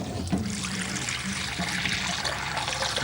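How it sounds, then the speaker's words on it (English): Cold tap water running steadily over cooked rice, a soft continuous splash and trickle heard close up, alone without voices. "The best and easiest method of cooling the rice is just simply put it under cold water."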